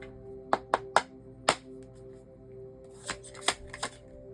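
A deck of tarot cards is shuffled in quick bursts, close and crisp, with several sharp riffles in two clusters and a faint steady hum underneath, no speech.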